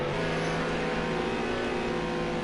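Nissan and Porsche GT3 race cars at Algarve in a racing video game, a steady loud engine drone with layered harmonic whine sustained throughout, no gaps or talk.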